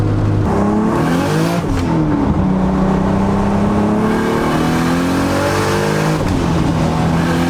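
A 700hp Toyota Supra on Toyo R888 tires accelerates hard in second gear and breaks into wheelspin, its engine roaring loud and continuous from inside the car as the pitch climbs and drops across the run.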